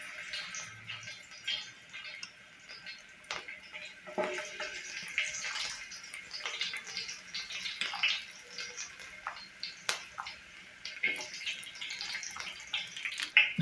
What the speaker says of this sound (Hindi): ये तवा जो है वो गर्म हो चुका है, इसमें मैंने घी डाला है। तो सबसे पहले इसमें आपने ये जो लहसुन बारीक काटा था इसे इसमें डाल देना।